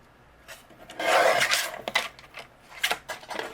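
Craft cardstock being trimmed into a strip for a handmade card gives a close, dry rasping swipe lasting about half a second, then a few lighter scraping ticks and rubs, with no voices.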